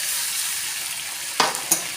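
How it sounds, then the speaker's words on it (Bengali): Mango chicken fries in oil with a steady close hiss, then spice paste goes in, marked by two quick utensil knocks and bursts of sizzle near the end, with no talking. "আমি এরপর বেটে রাখা পেস্টটা এর মধ্যে দিয়ে দেব।"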